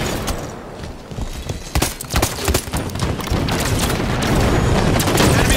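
Rocket explosions and rapid gunfire in a Halo 5: Guardians Fiesta match, dense overlapping booms and cracks that build to a continuous loud barrage.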